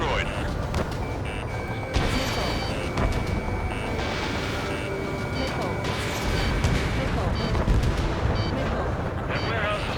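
Heavy, continuous rumbling explosions from an ammunition warehouse being destroyed in the air-combat game Ace Combat 7, a dense roar with sharper blasts over it, partly under radio voices talking.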